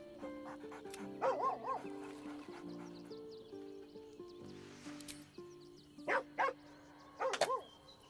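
Dog barking in the video game Baldur's Gate 3, a few short barks in clusters over soft game music, fairly quiet and mid-distance.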